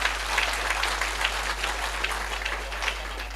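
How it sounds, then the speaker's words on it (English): Sustained audience applause at a live youth event in Ghana, a dense, even wash of many hands clapping for a few seconds with no voices rising above it. "I didn't hear you clapping for that."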